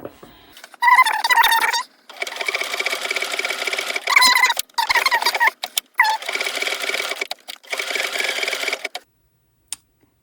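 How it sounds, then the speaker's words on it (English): A sewing machine runs an embroidery stitch around an appliqué on a child's top, loud close bursts of rapid needle chatter in several runs separated by short pauses, with no one speaking. "I am going to embroider stitch around it."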